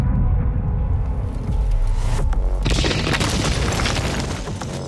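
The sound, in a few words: Doom Eternal: Doomslayer fired from a cannon through a wall, from a video game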